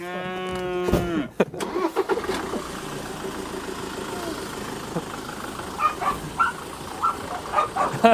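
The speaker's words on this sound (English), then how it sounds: "I'll back out on the road" A car backs out of a farm driveway onto the road, its engine rumbling steadily nearby after a brief tonal burst at the start, with scattered louder surges toward the end.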